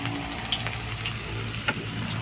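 Garlic and onion fry in a pan for pork menudo, a steady soft sizzle with faint stirring clicks and scrapes, close up and fairly quiet.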